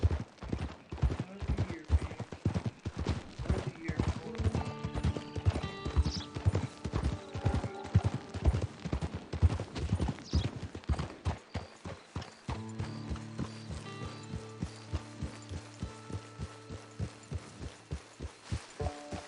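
Horse hooves clip-clop while riding in the Red Dead Online video game, a steady, close, rhythmic trot that runs throughout, with a low musical hum rising beneath it in the second half.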